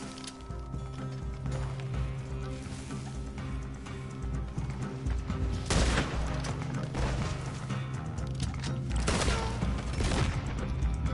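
Gunfire from bolt action rifles in the online western game Red Dead Online, with several sharp booming shots standing out over continuous game ambience and hoofbeats.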